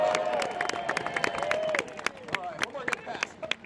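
Audience at an outdoor birds of prey show claps and cheers in a crowd roar, with a few louder distinct claps near the end.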